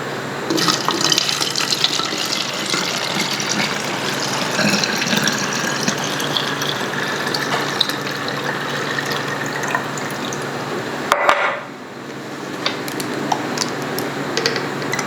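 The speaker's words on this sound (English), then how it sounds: "So I just add a little bit of water in here." Water being poured into a container while making a homemade fall room spray with added scents, a steady broadband liquid rush running continuously, close and fairly loud, with a brief break near the end.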